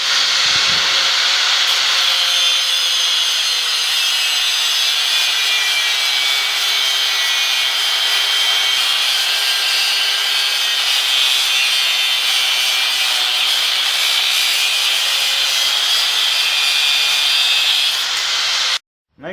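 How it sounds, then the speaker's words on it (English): An angle grinder cuts through a steel motorcycle fork spring from a Yamaha XV1600 Road Star, a loud steady high-pitched grinding screech held for nearly twenty seconds before stopping abruptly. "I'm going to measure 5 inches and cut my spring with the angle grinder."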